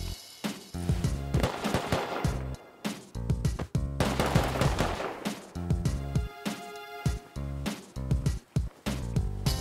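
Gunfire in the survival game Rust: repeated loud bursts of rapid shots separated by short pauses, close and punchy, continuing across the whole stretch with no talking.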